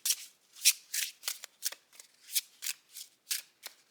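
Tarot cards being shuffled close up in a quick series of crisp riffling bursts, about a dozen in a steady rhythm, with no talking.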